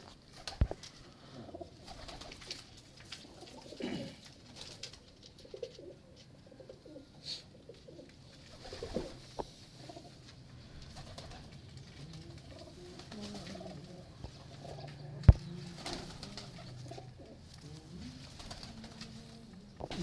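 Pigeons coo softly in a loft, low throaty murmurs repeating irregularly amid light shuffling and occasional faint clatter, with no talk.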